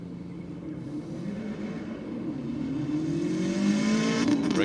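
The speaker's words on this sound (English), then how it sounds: "Got a few of the old school V8s coming through for their last run of the night." An old-school V8 car at a Sydney drag strip at night is heard as a low engine drone that swells and rises in pitch as it approaches and grows louder. No voices are audible.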